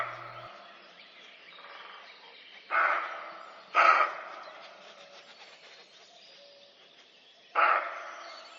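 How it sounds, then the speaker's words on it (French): A roe deer gives three short, sharp, dog-like barks, spaced irregularly and standing out loud and clear over a quiet background of faint woodland hiss. "le chevreuil aboie comme un chien"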